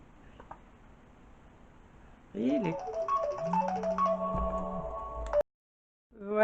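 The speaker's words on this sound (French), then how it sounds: "j'ai dû répondre au téléphone" A telephone rings with a tinny melodic electronic tone, close and fairly loud, over a low hum and faint ticking, then cuts off abruptly into silence.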